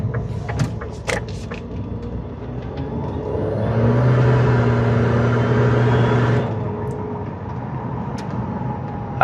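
A 2018 Karma Revero accelerating, its drive note swelling into a steady hum for a few seconds before easing off, heard from inside the car with a few clicks and knocks around it and no talk.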